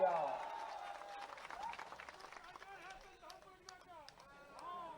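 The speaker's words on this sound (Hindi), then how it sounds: "जोरदार ताली बजाओ।" A crowd at a Jharkhand assembly election rally claps and cheers in a ragged burst of applause, mixed with raised voices and a speaker talking over it.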